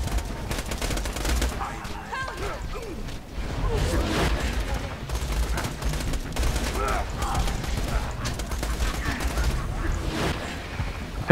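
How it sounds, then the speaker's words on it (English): Rapid bursts of gunfire from the player's weapons in Borderlands 2 rattle continuously alongside explosions and mechanical clatter, with a player talking throughout. "I feel like my guns aren't really doing anything."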